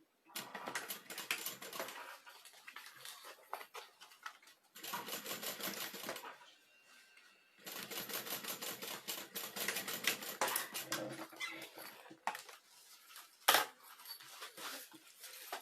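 A sewing machine topstitches a seam on a necessaire kit with stitch length 5, running in several close, loud bursts of rapid mechanical stitching separated by short pauses.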